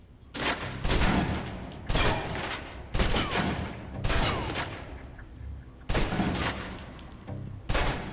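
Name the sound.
submachine gun emptying clip in video game Alpha Protocol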